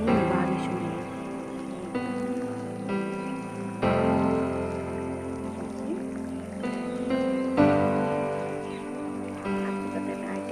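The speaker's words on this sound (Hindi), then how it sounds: "बाहर निकलना मुश्किल हो रहा है, इतनी बारिश हो रही है।" Heavy rain falling steadily outside a campus building in Uttarakhand, a constant broad wash that runs under someone speaking throughout.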